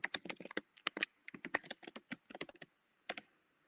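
Typing an email address on a computer keyboard, quiet close clicks in quick irregular bursts with a brief pause before a last couple of keystrokes.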